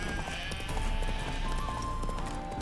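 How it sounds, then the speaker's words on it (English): Horse hooves clip-clop steadily in The Witcher 3 as a spooked mount whinnies and neighs, set against a busy game ambience with faint voice-like sounds. "Spooking my horse."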